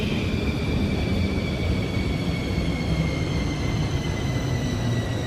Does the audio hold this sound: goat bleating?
no